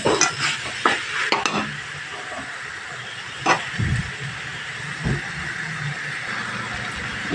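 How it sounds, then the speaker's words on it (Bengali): A spatula stirs bottle gourd, potato and bori lentil dumplings in a pan, giving irregular scraping clatters over a steady low hiss, with a few sharper knocks standing out. "এবার এখানে আমি বড়িগুলো অ্যাড করে দিলাম, দিয়ে ভালোভাবে কষাতে হবে"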